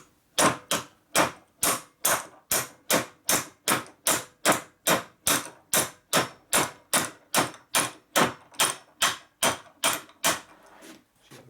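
Steady rapid hammer blows on a tool driving the wrist pin out of a very rusty S&S 4.5-inch Evo stroker flywheel crank, about two dozen evenly spaced metallic strikes, close and loud, with no talking.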